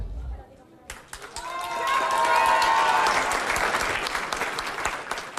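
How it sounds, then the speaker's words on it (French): A live audience in Ougrée breaks into loud, thunderous applause after a quiet start, the clapping swelling within a second and holding dense and steady with some cheering mixed in. "Je vais vous demander de me faire un tonnerre d'applaudissements comme si c'était Johnny Hallyday à Bercy."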